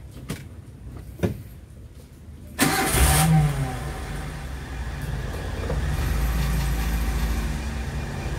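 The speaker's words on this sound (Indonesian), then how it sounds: "Kita uji coba mesinnya." A Suzuki Espass Zebra engine is cranked after a couple of sharp clicks, catches with a loud burst, then settles into a steady close idle that swells slightly toward the end.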